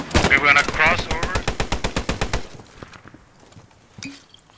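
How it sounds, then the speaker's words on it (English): Close machine gun fire in the video game Post Scriptum rattles out in a long rapid burst of evenly spaced shots with a voice shouting over the start, then fades to quiet scuffing and one last sharp crack. "He's shooting at us."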